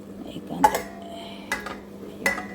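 A metal lid is set onto a cooking pot of potatoes and tomatoes in a home kitchen, giving three separate sharp clinks with brief ringing over quiet background hum.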